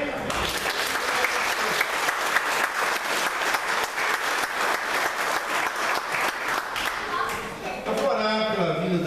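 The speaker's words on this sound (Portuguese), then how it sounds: "Eu gostaria, irmãos, que a igreja desse uma salva de palmas para essa equipe, irmã Samantha, irmã Michelle" A church congregation gives a sustained round of applause for a ministry team, with the clapping dense and even before it tapers off. A voice comes in at the close.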